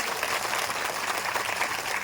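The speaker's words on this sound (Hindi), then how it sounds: "नौजवानों के नाम पे जरा जोरदार ताली बजा करके आप लोग स्वागत करिए" Applause from a rally crowd at a sports ground in Bhojpur, Bihar, welcoming young men who arrived on motorcycles with flags, a steady wash of clapping at moderate level throughout, with no distinct voices.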